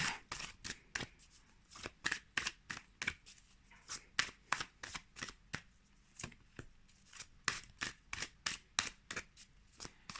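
Tarot cards shuffled by hand in a rapid run of crisp riffles and slaps, sharp repeated bursts over about ten seconds, close and quiet with no talk.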